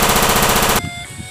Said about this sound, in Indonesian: Wow, tembakan MP5.